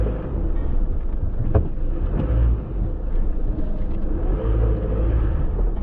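An Isuzu D-Max ute pushes through a deep water channel, with a continuous low engine rumble and sloshing wash, steady and close, blurred by wind buffeting on the microphone.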